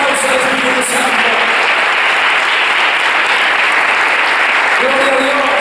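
A church congregation applauding during a Spanish-language worship service, giving a thick, continuous wash of clapping, with a voice briefly audible over it at the start and again near the end.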